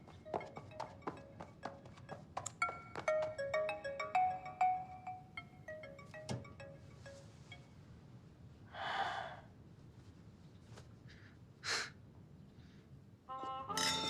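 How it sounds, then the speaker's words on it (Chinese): A mobile phone ringtone for an incoming call plays a bright, repeating electronic melody for several seconds in a quiet indoor scene, then stops, followed by a few soft breaths and a short airy sound. "我接个电话。"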